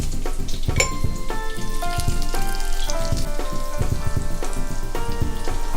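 Green chilies and curry leaves fry in hot oil for a Sadya cabbage carrot thoran. The close, loud crackling sizzle is continuous and steady, with tonal background music underneath.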